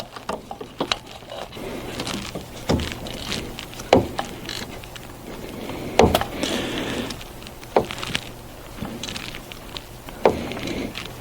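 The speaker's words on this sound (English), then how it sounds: "the torque wrench clicked" Torque wrench clicking while thermostat housing bolts on a Dodge Grand Caravan are tightened to 110 inch-pounds, a series of sharp, close mechanical clicks and ratcheting spaced irregularly over faint background noise.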